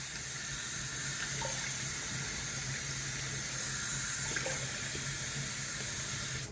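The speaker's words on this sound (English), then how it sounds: "Let's get some cold water running in here." Cold water runs steadily from a bathroom sink tap during a wet shave, a loud, continuous hissing splash that holds unchanged throughout with no other sounds.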